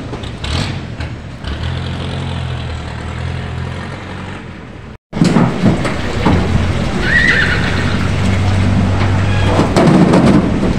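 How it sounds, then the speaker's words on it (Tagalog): Horses whinny and neigh at a livestock auction market in Lucena, loud and close over a constant noisy crowd-and-animal din, with a brief cutout midway before the commotion resumes. "Ganda ng kabayo."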